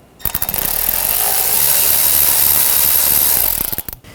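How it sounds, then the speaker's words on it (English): A ratchet with a 7mm socket loosens a worm clamp while replacing the catalytic converter on a 2013-2019 Ford Escape, a loud continuous clicking run close by that starts and stops abruptly. "I'm going to use a 7mm socket."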